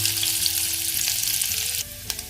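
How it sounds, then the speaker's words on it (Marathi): Garlic and onion fry in hot oil in a pan for a Malvani-style kulith pithi, giving a loud, steady sizzle with a brief stirring clatter near the end and no talking. "लसूण थोडी लाल झाल्यानंतर कांदा टाकावा"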